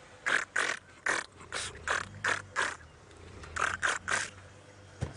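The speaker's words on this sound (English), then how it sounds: "Brent has his on a setting, of course, that takes 47 photographs every time he pushes the shutter down" A camera shutter fires a rapid burst of about a dozen crisp mechanical clicks in two quick runs with a brief pause between, close and fairly loud, with no voices.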